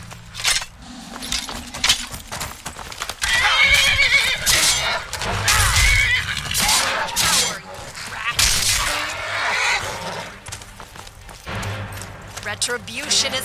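A horse whinnies loudly amid Skyrim game sounds, with people talking over it, jangling metal and hoof clatter in the background.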